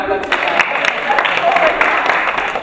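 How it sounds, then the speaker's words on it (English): An audience gives a brief round of clapping for performers after a dance improvisation exercise, lively and uneven hand claps filling the short moment, close and fairly loud. "Okay, give them a clap."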